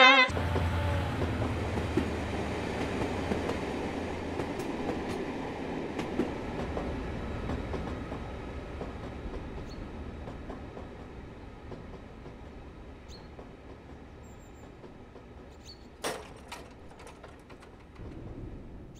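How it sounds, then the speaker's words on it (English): Train wheels rolling over jointed rails in Train Simulator on the Wherry Lines, a steady rumbling clatter that fades gradually, with a few brief sharper clanks toward the end and no talk. "There's also a different noise depending on if you're travelling over jointed or continuously welded rails, the former giving off that iconic clickety-clack noise."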